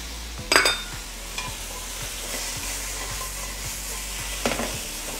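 Water chestnuts and pork stir-fry in a wok with garlic, a continuous sizzle with rhythmic spatula scrapes and two sharp metallic clangs as ingredients drop in.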